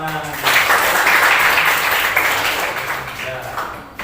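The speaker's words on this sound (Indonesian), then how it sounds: "Ya, tepuk tangan." A class of junior high school students claps hands together in a classroom, a dense burst of applause swelling after half a second and tapering off over about four seconds, with a voice faintly heard at the edges.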